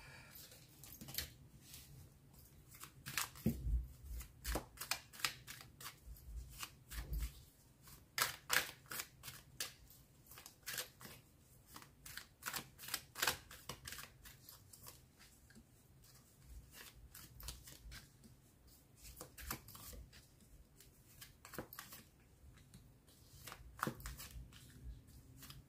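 Tarot cards being shuffled for a reading, quiet close riffles and flicks repeating in irregular bursts throughout, with soft slaps of cards landing and no talk.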